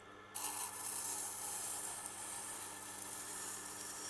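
A broken Kyocera-style ceramic knife is ground on a Tormek 1000 grit stone, giving a steady, close, hissing rasp that starts abruptly and continues evenly with no voices.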